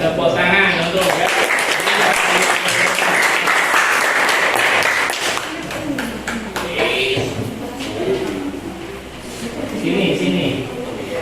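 Students in a classroom clap for a classmate called up to present, a burst of applause in the first half that fades into chatter and talking voices.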